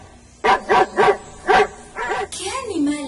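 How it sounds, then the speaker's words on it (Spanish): A dog barks four times in a quick, evenly spaced burst, loud and close, then lets out a softer whine or yip at the end. "Es un perro."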